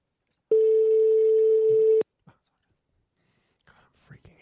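Ringback tone on an outgoing phone call: one long, steady electronic tone sounds clearly, then cuts off, followed by near silence and faint, soft voices.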